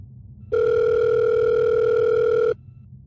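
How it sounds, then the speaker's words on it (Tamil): A telephone tone sounds for about two seconds as an incoming call arrives, a steady electronic ring that starts and stops cleanly over a faint low background. "யாரு கால் பண்றது?"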